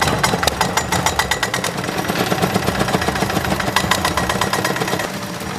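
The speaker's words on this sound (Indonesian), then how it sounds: "Jika menggunakan mesin thresher," Soybean thresher running on dried soybean plants, a loud, steady mechanical rattle and hammering with a rapid repeated clatter throughout, close by, with no talk.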